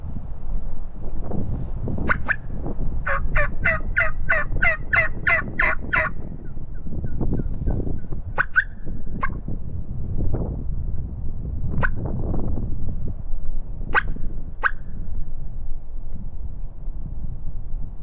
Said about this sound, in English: there's definitely some gobbling going on around 3:30